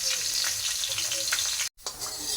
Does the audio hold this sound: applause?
no